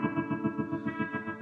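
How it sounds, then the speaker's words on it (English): An electric guitar played through a 1960s Vibratone rotating-speaker amp effect gives a sustained, distorted chord that pulses in a fast, choppy, wavering rhythm with a wash of reverb. "the next tone is called the vibratone"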